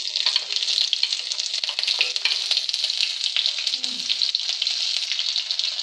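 Cumin seeds with finely chopped green chillies and a few coriander leaves frying in hot oil for a dosa filling, a steady bright crackling sizzle throughout with occasional stirring scrapes, close and fairly loud.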